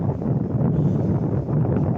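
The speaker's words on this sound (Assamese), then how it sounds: "এতিয়া একদম কামৰূপৰ ক্ৰচিঙতহে পাম। পূৰা বতাহ দি আছে।" Steady, heavy wind rushes and buffets throughout on a moving train in Assam, a continuous low roar with no breaks and no voices.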